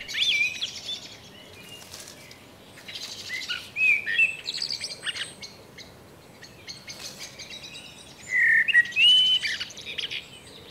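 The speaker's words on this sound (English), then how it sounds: "Let's take a listen for the blackbird sound." A blackbird sings nearby in clear, fluting phrases broken by short pauses, with a few fainter chirps in between.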